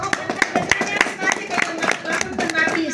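An audience at a Hindi-language church service claps in a quick, uneven burst of sharp, close hand claps, with a voice talking over them.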